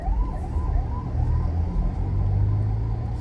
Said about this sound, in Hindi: एक सेकेंड, एम्बुलेंस जा रही है